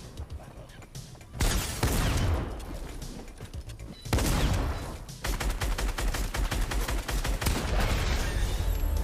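Rapid bursts of gunfire in the video game Fortnite, loud clustered volleys that crackle in dense runs and break off into short pauses, with a faint voice speaking underneath.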